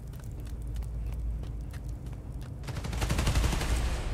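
Gunfire in the superhero game Spider-Man: Miles Morales, with rapid repeated shots in quick bursts that thicken into a louder, denser volley toward the end, with no talking.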